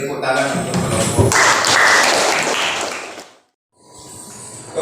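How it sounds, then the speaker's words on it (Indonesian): A classroom of students applauds a group that has just finished presenting, a dense, loud burst of clapping mixed with voices that fades into brief silence before the room murmurs again. "beri tepuk tangan untuk kelompok"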